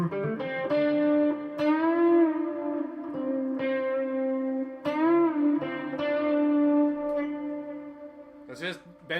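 An electric guitar played through a Keeley Halo echo pedal, with sustained bent notes ringing out in a trailing echo, loud and close, and a brief scratchy burst at the end.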